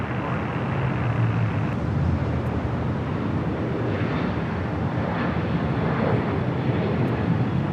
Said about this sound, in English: runway 24 right, clear to land